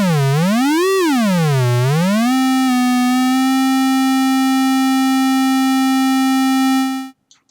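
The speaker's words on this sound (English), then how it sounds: "I've got the square wave connected up, and if I turn this up, it'll make a noise, and that's for tuning." A square wave tone from a modular synthesizer oscillator sweeps up and down in pitch, then settles into a steady loud drone for several seconds before cutting off abruptly, with no talk over it.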